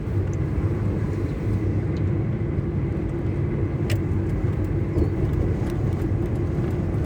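A car driving along a suburban road past a small park, its steady engine and tyre rumble continuous and close throughout, with no talk over it.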